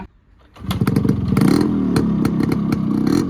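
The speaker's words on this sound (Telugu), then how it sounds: "సౌండ్ చూడండి, సౌండ్ బాగుంటుంది. RX100 అంటేనే మనకి సౌండ్ అనమాట." A Yamaha RX100 motorcycle fires up after a brief quiet moment, then its engine revs loudly and close by with a rough, rapid two-stroke pulsing and rattle.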